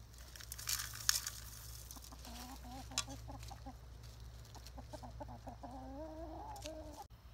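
A rooster clucks in short, repeated bursts close by, over a low steady hum and scattered rustling.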